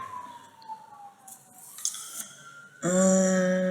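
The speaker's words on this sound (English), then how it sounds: "Sorry, we got sirens." Sirens wail in the distance, a falling tone giving way to a louder, sustained siren blast near the end.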